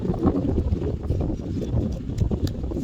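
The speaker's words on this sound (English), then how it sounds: "It's windy today" Gusty outdoor wind buffets the microphone with a low, uneven rumble that swells and dips across the few seconds, no talking.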